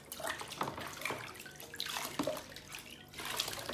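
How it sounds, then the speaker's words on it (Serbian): Water splashes and pours over a dog named Simba during a bath, a quiet run of uneven rinsing splashes and drips. "E, ispiremo Simbu. Samo vodicom, lepo."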